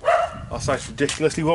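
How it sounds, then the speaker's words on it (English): A neighbour's dog barks a few times from a couple of doors away, faint yips and woofs partly buried under someone talking nearby. "You can hear a dog barking"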